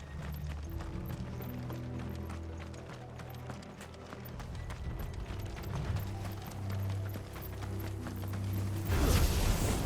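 Horse hooves clip-clop in the video game Final Fantasy XVI, a steady rhythmic series of hoofbeats over low game music and ambience, with no talk.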